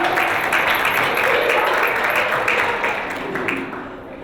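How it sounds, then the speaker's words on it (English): Sustained applause from a crowd at a university soccer team's end-of-season banquet, steady and dense throughout before tapering slightly near the end. "so give yourselves a round of applause again."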